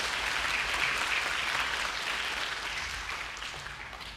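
Steady applause from a large crowd at a children's parliament event in the Korean National Assembly, loud and sustained throughout, slowly fading slightly toward the end.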